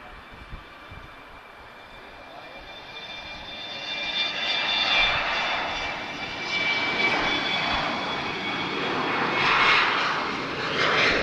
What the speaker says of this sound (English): Great sound there from two CF34 engines.